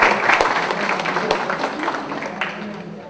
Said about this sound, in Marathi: जोरदार टाळ्या वाजत राहू द्या.